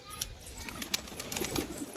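Pigeons softly cooing at a loft, faint low calls scattered among light rustling and distant background noise.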